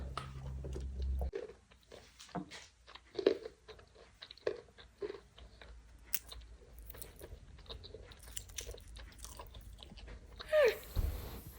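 Soaked almonds are bitten and chewed close up, producing a series of soft irregular crunches and wet chewing sounds with brief pauses between bites, quiet overall.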